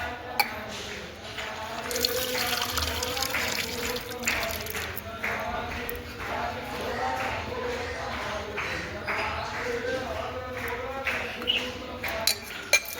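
A drinking-water tap runs at a temple during Ram Navami, a steady splashing stream with occasional clinks of cups, faint voices in the background.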